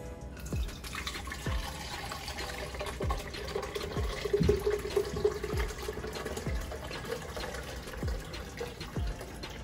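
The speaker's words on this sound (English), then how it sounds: "you're going to go ahead and strain and mix. Get a strainer." Green juice being strained through a strainer and mixed, heard as a steady trickle of liquid with repeated soft drips and splashes at a fairly even rhythm, close and moderately quiet, with no talking.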